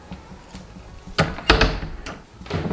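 A door fitted with new foam insulation tape is pushed shut, giving a couple of dull thuds and a soft latch knock, close and fairly loud, with faint handling noise between.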